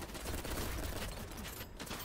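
Rapid bursts of gunfire fill a BattleBit Remastered battle, a dense continuous fusillade of shots close by, with no voices over it.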